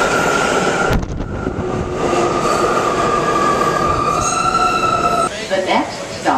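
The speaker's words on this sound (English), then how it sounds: "Here comes the train." A New York subway train pulls into a station with a loud rumbling roar, a sustained metallic squeal from the wheels and rattling clatter, and squeaks toward the end as it slows.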